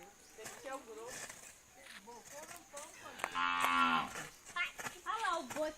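An ox lows with one long, loud moo in the middle, among quieter lowing calls, while people talk nearby throughout.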